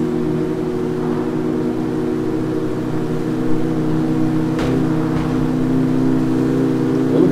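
A car in the CarX Street racing game accelerates under nitro boost, a steady droning engine tone holding at high revs with slight rises and a brief whoosh partway through, loud and continuous with no voices.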